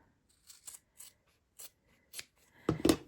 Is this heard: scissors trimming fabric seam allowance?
yes